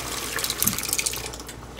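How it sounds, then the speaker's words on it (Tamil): Water poured from a pressure cooker into a pot of drumstick sambar, a brief close splashing trickle with no talk. "இன்னும் கொஞ்சம் தண்ணி ஊற்றி இந்த குக்கரை கழுவி ஊற்றிடலாம்."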